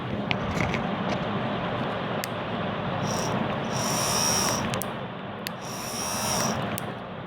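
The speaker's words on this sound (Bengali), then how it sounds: "কটকট শব্দ হচ্ছে, আপনারা একটু শুনুন" Motor speed controllers give off sporadic sharp clicks and short bursts of high, insect-like buzzing over a steady electrical hum, heard up close with no talking.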